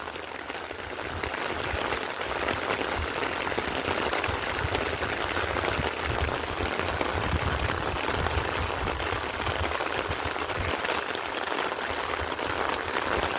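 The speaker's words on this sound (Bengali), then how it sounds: "আবার বৃষ্টি শুরু হয়ে গেল।" Steady rain falls outdoors during village fishing for a large catla fish, a dense, even hiss that holds at constant loudness across the whole stretch with no voices.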